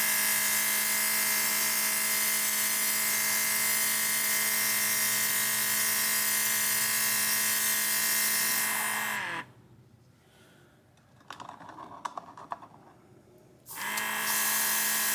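An X Dovet airbrush sprays paint with a steady high-pitched hiss and compressor hum, then cuts out for a few seconds of near-quiet with small clicks before the spraying resumes at full level.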